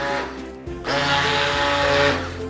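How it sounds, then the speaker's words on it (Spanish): An immersion blender purees sweet potato, its motor whirring steadily, pausing briefly, then grinding again with a brighter, harsher tone, close and alone. "lo único que tienen que hacer es presionar la batidora de inmersión sobre el producto que quieren moler"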